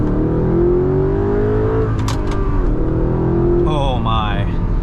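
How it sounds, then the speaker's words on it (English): A 2008 Audi R8 fitted with a full custom Valvetronic exhaust drones and revs from inside the car, a steady loud engine note with rising pitch, under a voice talking. "So I have a full custom exhaust on this car."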